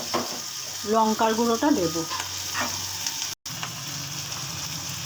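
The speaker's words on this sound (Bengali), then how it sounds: "পেঁয়াজটা একটু ভাজা হলে তারপরে আমি" Onions sizzle and fry in a pan for Kochur loti, a steady close crackle with stirring, while a voice speaks briefly at the start.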